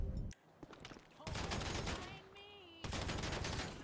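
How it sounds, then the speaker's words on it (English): Rapid bursts of gunfire in Grand Theft Auto V hit a vehicle's gas tanks and fuel line, loud repeated volleys with short gaps between them, with game sounds in between. "You could actually shoot the fuel, the gas tanks of this thing, and then shoot the fuel line."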